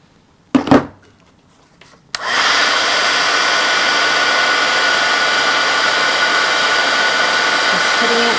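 A heat tool roars steadily at close range, melting a thick layer of embossing powder on a card, after a couple of brief handling knocks; the blowing hiss continues unbroken to the end.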